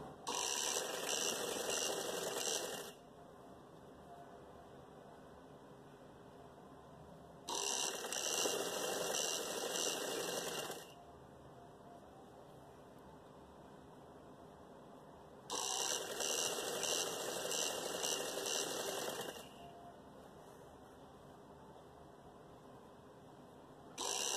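A sewing machine stitches cloth over trouser elastic in bursts of steady mechanical whirring, three long runs separated by pauses, close and fairly loud with no talk.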